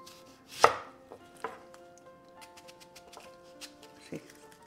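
Knife chopping onion into thick pieces on a board, one loud close cut followed by several lighter, irregular taps, with faint background music.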